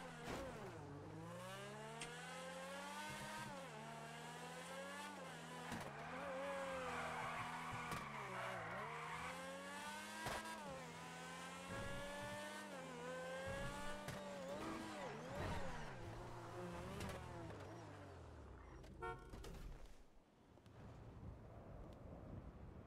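A car in the FiveM video game drives to a garage, its engine revving up and down through gear changes with tire squeal, loud and continuous, then settling near the end.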